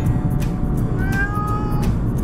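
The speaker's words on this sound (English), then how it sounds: "And then he meowed some more when I let him out again." A male cat meows during a car journey, a rising, drawn-out call near the middle and fainter cries around it over steady low road rumble, with no talking.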